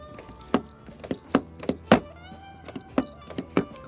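Door locks on a Lexus GX 460 SUV clunking shut, a quick irregular series of about eight sharp mechanical clicks and thunks, close and fairly loud, with no talking.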